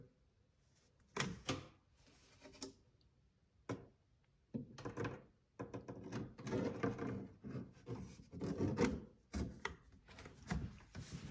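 Plastic pinball machine back panel snapped off and on: a cluster of sharp snaps early, then a longer run of rattling clunks and presses as it's fitted back, close and fairly quiet.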